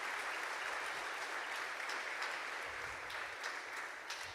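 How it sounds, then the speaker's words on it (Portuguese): A church congregation applauds visitors with continuous, crisp clapping from many hands, steady and fairly close, fading slightly toward the end. "Vamos aplaudir esses amados que estão nos visitando hoje."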